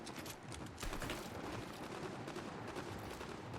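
Gunfire in Fortnite, a rapid run of faint, distant-sounding shots cracking in quick succession over low background noise, with no talk.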